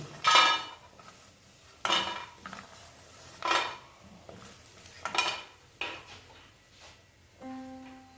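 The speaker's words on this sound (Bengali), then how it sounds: "এবার আমি বড়িগুলোকে সব তুলে নেব সব বড়িগুলো তুলে নিচ্ছি" Metal utensil scraping and clinking against a pan as fried lentil dumplings (bori) are lifted out, a few separate loud clatters spaced a second or so apart, ending with a brief steady tone.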